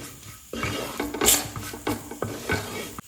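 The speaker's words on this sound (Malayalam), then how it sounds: "ഒരു രണ്ട് ടീസ്പൂൺ മുളക് പൊടി നന്നായിട്ടൊന്ന് ഇളക്കി കൊടുക്കണം" Chili powder being stirred into fish curry masala in a pan, a busy run of close scraping and clanking strokes from the spoon against the vessel with a light sizzle beneath, no voices.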